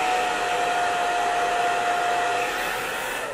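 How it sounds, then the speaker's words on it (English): Hair dryer on its low setting blowing steadily into hair held up in the hand, a close, continuous whooshing airflow with a thin steady whine, even and unbroken throughout. "I'm going to put it on low and I'm going to grab my hair just like a diffuser hand, and I'm going to blow dry inside of it."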